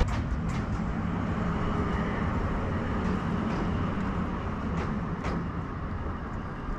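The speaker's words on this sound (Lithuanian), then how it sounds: "o štai lokomotyvas važiuoja, kuris bus prikabintas kitoj pusėj" Locomotive rolling through a railway station, a steady broad rumble and hiss of moving rail machinery heard alone at moderate distance.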